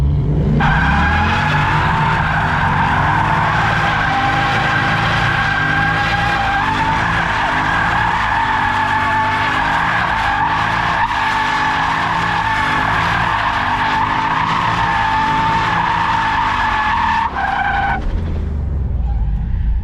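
A Ford Mustang drifting, its tires skidding in a loud, sustained squeal over a wavering, revving engine for about eighteen seconds before the sound cuts off abruptly.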